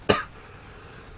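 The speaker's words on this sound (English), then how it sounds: "dying further of his coughing" A man gives one sharp, close cough, followed by a quiet, faint room background.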